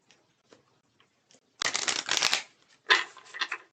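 Tarot cards are shuffled in two quick, crisp riffling bursts, close and fairly quiet, set apart by short pauses and a few soft taps.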